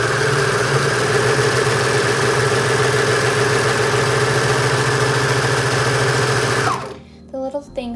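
A serger sewing machine runs steadily and loudly for nearly seven seconds, its fast mechanical whir and stitching rhythm continuous before it stops abruptly, leaving a few faint handling clicks.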